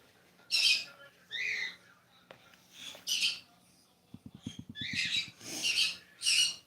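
Pet birds squawk indoors in loud, harsh bursts at a steady pace, mixed with a quick rattling trill partway through, close and clear in an otherwise quiet room.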